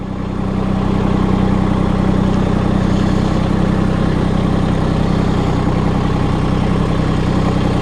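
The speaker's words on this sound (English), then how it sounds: "What you need to do is get your tractor centered right down the center. Just slow and easy come into it." A Massey Ferguson compact tractor engine rumbles loudly and steadily at low speed as the tractor creeps slow and easy into its loader, a constant close drone with no talk.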